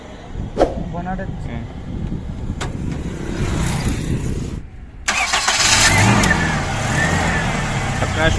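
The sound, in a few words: Toyota Noah car engine starting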